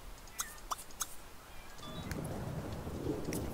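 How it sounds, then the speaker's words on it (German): Rain and thunder from The Sims 3 game, a faint rain hiss with scattered drop ticks that swells into a low rumbling roll of thunder in the second half, quiet and steady with no speech. "Oh, jetzt regnet es ja schon wieder."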